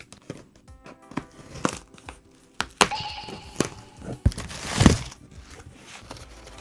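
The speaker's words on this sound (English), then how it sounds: "Let's get into the unboxing. Let's open it up." A DIYRE 73P Neve 1073 preamp clone is unboxed, with crinkling packaging, tearing, and scattered thunks and rustles at close range, quiet between handling bursts.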